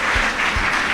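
Brief burst of steady crowd applause at a launch ceremony in Dakar, dense and continuous, heard alone for about a second.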